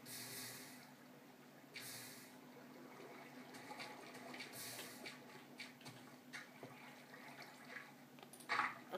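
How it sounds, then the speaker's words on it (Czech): Water being poured in the Minecraft video game gives a faint, soft, continuous flowing wash with a few brief louder splashy bursts, no talk over it. "Do toho dáme takhle vodu."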